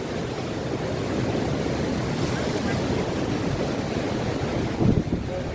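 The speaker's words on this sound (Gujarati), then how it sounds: "દરિયાનો લોડ આવી તમે જુઓ" Sea waves breaking on a shore, a steady broad wash of surf with wind buffeting the microphone throughout and a brief louder gust near the end.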